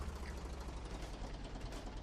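A tractor engine in the farming game Professional Farmer 2014 runs in a steady low rumbling drone, quiet and continuous with no talk over it.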